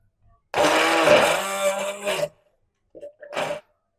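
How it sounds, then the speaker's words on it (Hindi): A hand blender whirs in a jug of milk, salt and sugar sauce, a loud close burst of about two seconds, followed by two short pulses after a pause. "ब्लेंड करेंगे हम सॉस को।"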